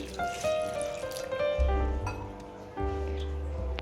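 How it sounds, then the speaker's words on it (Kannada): Water poured into a coconut chutney mixture with ginger, garlic and green chillies, a close, light trickle with small splashes over steady kitchen background noise. "ಸ್ವಲ್ಪ ನೀರು ಹಾಕ್ತಾ ಇದ್ದೀನಿ"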